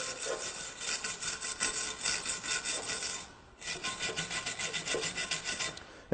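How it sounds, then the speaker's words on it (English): A brush scrubs gunk off a stubborn bolt in quick, rhythmic back-and-forth rasping strokes, close and continuous, with one brief pause midway. "I'm going to take and just brush this off a little bit"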